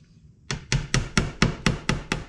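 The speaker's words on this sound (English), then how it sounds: "I need my hammer and my punch probably." A hammer strikes a steel punch against the valve of an RV waste tank, eight sharp metallic blows at an even pace after a short quiet start, loud and close with no talk.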